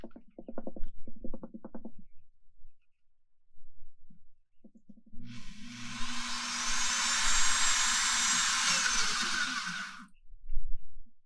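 Hole saw drilling through a boat deck while installing a hatch: after brief talk and a pause, a loud steady grinding whine runs for about five seconds, then stops.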